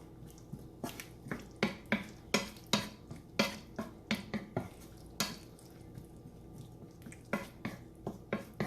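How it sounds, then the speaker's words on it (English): Mutton stew being stirred in a pot, a steady series of close, sharp scrapes and clinks of the spoon against the pot at a fairly regular rhythm, with a soft background hiss and no talk. "Give a good mix"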